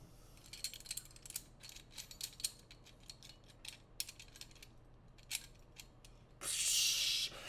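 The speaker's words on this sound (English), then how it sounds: "Let me unscrew this because I might hurt myself." A part is unscrewed from an object, heard as a run of small, close mechanical clicks and ratcheting ticks in irregular bursts, ending in a louder rough scraping rush.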